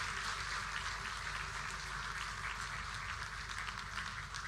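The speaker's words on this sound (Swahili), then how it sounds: "Tupigie makofi Mheshimiwa Rais tena." Conference audience in Mombasa applauding the President, a dense, steady burst of clapping from a large crowd that carries evenly throughout.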